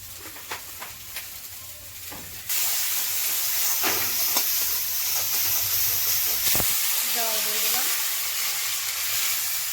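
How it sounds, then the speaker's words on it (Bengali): Curry broth with salt, turmeric, coriander and cumin boils in a pan, a steady loud bubbling sizzle and hiss that swells after a couple of seconds, with scattered clinks and a brief stir. "ঝোল আমার ফুটে গেছে"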